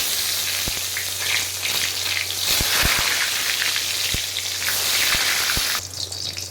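Eggplant pieces sizzle and crackle in hot oil over high flame, a steady dense frying hiss with scattered sharp pops throughout, close and fairly loud with no talking.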